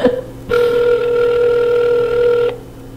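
A telephone ringback tone on an outgoing call sounds as a single steady electronic buzz lasting about two seconds, clear and loud, with no talking over it.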